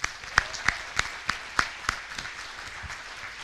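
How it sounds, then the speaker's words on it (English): Sparse claps ring out at an awards ceremony at Woodland Hills High School honouring student athletes, about seven distinct, fairly sharp hand claps spaced roughly a third of a second apart before fading into room noise. "So I want to give a round of applause for our student athletes."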